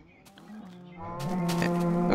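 A cow mooing in Minecraft: one drawn-out, low moo that swells louder partway through, close and clear, with no talk.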